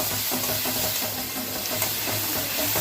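Powdered spice mix dropped onto cumin and radhuni already fried in a pan, giving a steady close sizzle with light stirring scrapes throughout and no voices.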